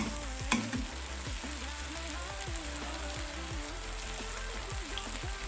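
Chopped ingredients sautéing in a pan before eggs go in, a steady crackling sizzle like light rain, with one sharp clack near the start and faint background tones underneath.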